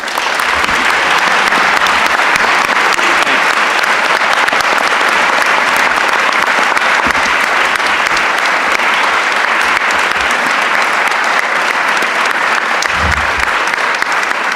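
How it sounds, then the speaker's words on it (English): A debate audience at Lake Michigan College applauds the House and Senate candidates, a loud, dense and continuous wash of clapping that fills the whole stretch without letup. "let's give a round of applause for the candidates"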